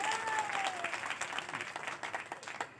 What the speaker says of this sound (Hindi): एक बार हमारे लिए ताली बजा दो